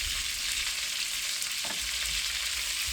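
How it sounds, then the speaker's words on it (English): Steady, dense sizzle of food frying in a pan in Kingston, Jamaica, a constant bright crackle that fills the whole clip with no talking. "you can go on frying"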